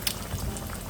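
Pork kimchi stew bubbles in a pot, a short soft burst of boiling with low gurgles and a brief brighter splash near the start.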